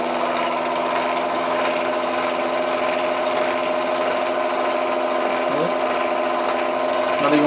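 A Meccano electric motor runs on a 1949 Meccano T20 20V AC transformer, giving a steady close mechanical whine and hum with a faint rattle. The tone stays constant for several seconds and nobody speaks.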